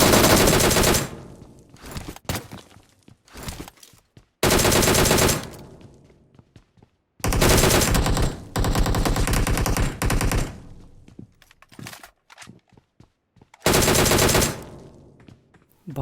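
Gunfire in the PUBG video game: repeated loud bursts of rapid automatic fire separated by short pauses, with scattered single shots in between.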